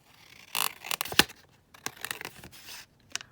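A paper card strip for a belly band is cut down, giving crisp snips and crinkly paper rustles in short uneven bursts with brief silent gaps between them.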